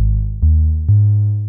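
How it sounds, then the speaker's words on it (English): A deep, subby bass line from an Ableton Wavetable synth plays three loud, sustained low notes close up with no voices. "I've loaded up this subby bass line using the Ableton wavetable"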